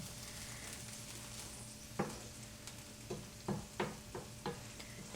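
Corn and garlic sizzling in a pan, a low steady fry broken by several sharp scraping stirs that come close together toward the end.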